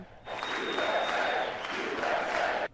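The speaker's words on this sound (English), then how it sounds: "the largest applause of the night went to the gold medal-winning U.S. men's hockey team" Loud applause and cheering from a large audience in a chamber for the gold medal-winning U.S. men's hockey team at the State of the Union, a dense sustained roar that cuts off abruptly near the end.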